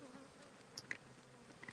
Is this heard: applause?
no